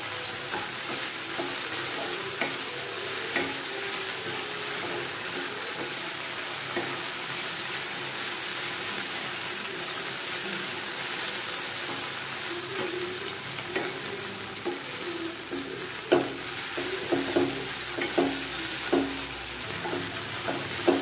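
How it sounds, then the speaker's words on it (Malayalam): Ladies finger (okra) upperi being stirred and fried in a pan on a medium flame, giving a steady, close sizzle with scraping stirs throughout and no talking. "ഒരു മീഡിയം ഫ്ലെയിമിൽ വെച്ചിട്ട് നന്നായിട്ടൊന്ന് ഇളക്കി കുക്ക് ചെയ്തെടുത്താൽ"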